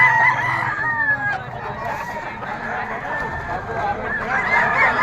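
A bull stag rooster crows at a dawn poultry market in Padre Garcia, Batangas, amid a busy background of clucking fowl and people talking nearby.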